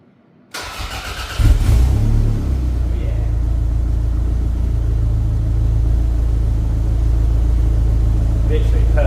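A crash-damaged Toyota MR2 SW20 Turbo engine cranks and catches, then settles into a steady, loud idle rumble that runs on unchanged, with a voice speaking briefly over it.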